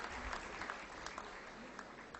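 A conference audience of accounting students gives steady, dense applause after student presentations, fairly faint and distant in a large hall, with no talking.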